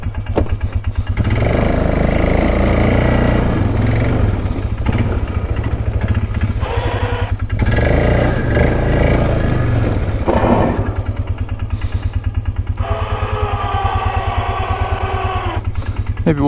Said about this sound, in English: I think just idling away.